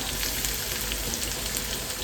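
Garlic dropped into hot oil with cumin and onion, sizzling in a steady, close, continuous hiss with no pauses.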